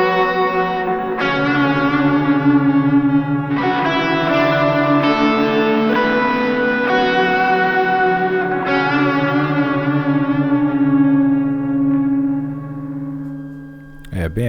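GP5 multi-effects pedal set to mimic a POG-style octave sound: sustained guitar notes and chords layered with bright octave tones, several fresh attacks over a steady, dense wash, loud and close, with nobody speaking.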